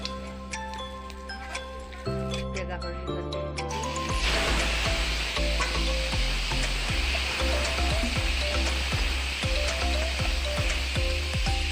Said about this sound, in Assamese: মোৰ তেলখিনি গৰম হৈ গ'ল। এতিয়া মই দিম পাঁচফোৰণ।